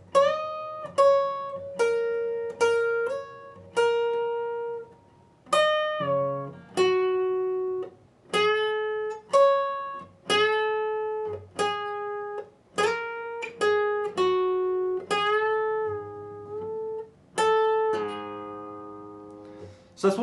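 Clean electric guitar playing a passage of a solo, a run of plucked notes and bends with distinct attacks that ring and fade between phrases, played alone at moderate volume.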